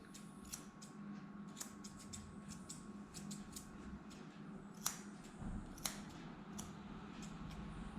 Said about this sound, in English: I take the scissors and go around the